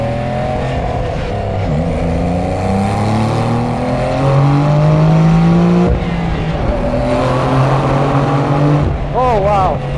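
Porsche 911 GTS Cabriolet engine pulling hard in Sport mode, a loud, close roar climbing in pitch through gear changes over about ten seconds, with a voice briefly audible near the end.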